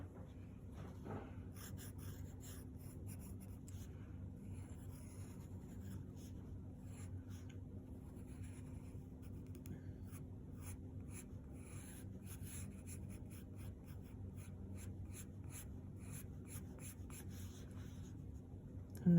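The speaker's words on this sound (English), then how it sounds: "You'll probably need a sharp pencil for this because you're drawing such intricate drawings." A sharp pencil sketches intricate details on paper in quiet, close scratchy strokes, a steady run of short bursts of rubbing and scratching over a faint low background hum.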